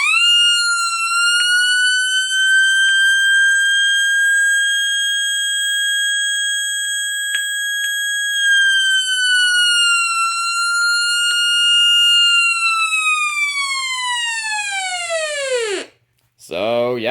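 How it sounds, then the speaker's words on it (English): Alert siren of a Midland 74-105 weather radio, a piercing, steady electronic tone that wavers slightly in pitch for about fifteen seconds, then slides sharply downward and cuts off. "this is the highest pitch Midland 7410X radio I own, and probably highest pitch siren radio overall"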